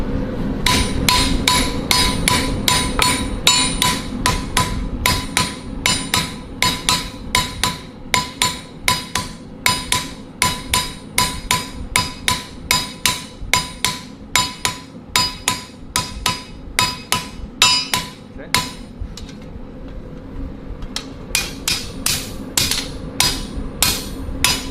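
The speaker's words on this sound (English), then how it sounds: "Let's heat it up and hammer it down." A blacksmith's hammer strikes hot metal on an anvil in a long run of loud, ringing, evenly spaced blows, with a short pause near the end before the rhythmic pounding resumes.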